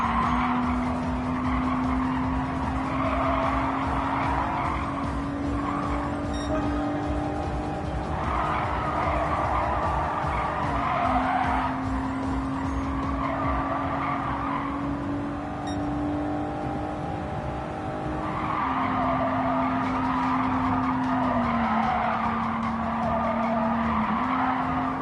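Race cars in the video game Gran Turismo 7 skid with long tire squeals over a steady engine drone, loud and continuous, the squeal rising in repeated bursts over the whole stretch.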